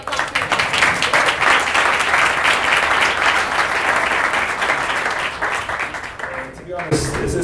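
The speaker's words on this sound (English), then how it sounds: "come on, we need a round of applause" An audience at a Bahrain business talk breaks into sustained applause, dense clapping that stays loud for several seconds, then thins and fades toward the end as a voice returns.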